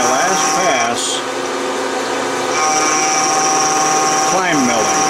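A milling machine cuts a dovetail with light passes, a steady loud machining whine and grind with brief tonal sweeps as the cutter engages, while a person talks over it.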